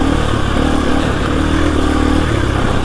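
A KTM EXC-F 350 dirt bike engine runs loud and close with a continuous buzzing drone and slight clatter, steady throughout with no voices.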